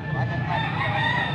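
A young rooster crows at a poultry auction in Angeles, Pampanga, a loud sustained cock-a-doodle-doo filling the whole moment close by, with a faint background murmur.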